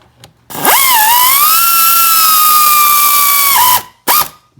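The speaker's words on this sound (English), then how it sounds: "let's get our ratchet on there." Bolt being tightened with a ratchet on a 2009 Honda Civic during a transmission service, heard as one loud, sustained close whirring run lasting about three seconds that ends abruptly, then a short final burst.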